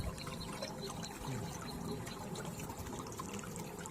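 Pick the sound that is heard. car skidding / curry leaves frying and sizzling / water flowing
water flowing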